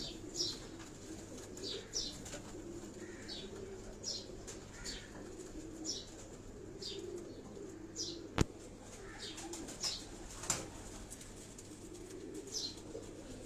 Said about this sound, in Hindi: ये तमाम उनके उड़ने वाले जो कबूतर हैं, हाई फ्लाइंग पिजन उड़ने वाले जो उनके कबूतर हैं